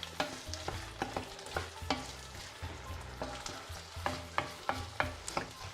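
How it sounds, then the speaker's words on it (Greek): Carrots and other vegetables being stirred in a cooking pot, with a soft sizzle underneath and a steady series of spoon scrapes and knocks against the pot, close by. "Ανακατεύω."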